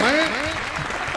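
Audience applause at a Holi comedy poetry gathering, a short burst of clapping heard under someone speaking over a microphone.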